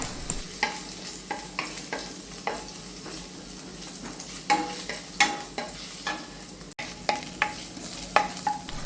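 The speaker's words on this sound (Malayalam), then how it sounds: "ഇതും കൂടി നമുക്ക് ഇതിലേക്ക് ഇട്ട് കൊടുത്ത് നന്നായിട്ടൊന്ന് വഴറ്റിയെടുക്കാം" Cumin, chopped ginger and garlic being sautéed in a pan, with repeated scraping stirs against a steady soft sizzle, heard alone and fairly quiet.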